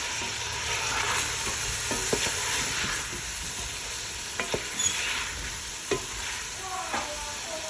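Fresh minced-meat kofta with garam masala frying in a pan, a steady soft sizzle with occasional stirring scrapes and taps of a spoon against the pan, close and unaccompanied by talk.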